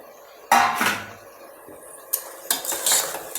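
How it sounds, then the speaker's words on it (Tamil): Chopped carrots and beans tumble into a cooking pan with tomatoes, giving a clattering, scraping burst followed by a few lighter metallic knocks and stirring sounds, close by with no talking. "கேரட்டு பீன்ஸ் வந்து போட்டுக்கிறேன்"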